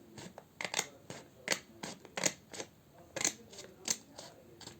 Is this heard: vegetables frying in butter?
no